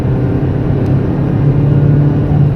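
A Renault 19 with a naturally aspirated engine accelerating, a loud, steady low engine drone heard from the car with no talk over it.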